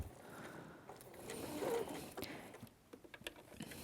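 Sewing machine running a straight stitch and back stitch on a beginner's pouch, a quiet close-up mechanical whir and clatter with soft ticking pulses toward the end.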